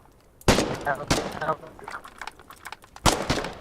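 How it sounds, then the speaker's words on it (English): A frag grenade is fired in the war game Foxhole, with a sharp loud blast followed by scattered crackling gunfire, then a second heavy report near the end, without talk. "when it's reloaded, you can fire"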